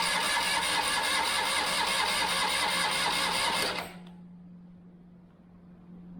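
A rare Citroen Acadiane's engine cranks with a jump pack connected, a loud, steady rhythmic churning that runs without a break, then cuts off abruptly, leaving a low hum.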